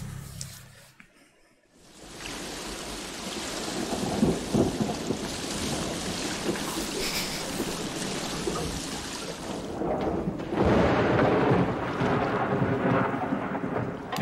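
A film thunderstorm at sea, with rain hissing steadily and deep thunder rumbling and cracking, building in loudness after a quiet opening second.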